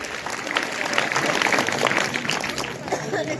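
A large crowd at a public rally breaks into sustained applause, a dense, steady wash of clapping lasting several seconds with voices mixed in.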